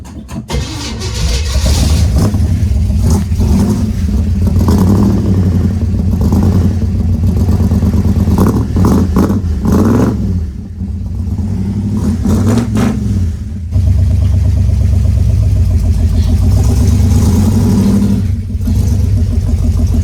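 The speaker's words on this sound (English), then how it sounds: "I'm gonna go ahead and back up the 64 Chevelle here a little bit now that I clean off, and I'm gonna see if this thing starts" A 1964 Chevelle V8 fitted with straight-through mufflers starts and revs, its loud, rumbling exhaust running steadily throughout, with throttle blips swelling and dipping near the middle.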